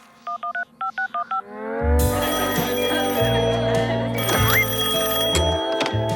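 Six quick phone keypad tones beep in two short bursts, then loud music abruptly takes over.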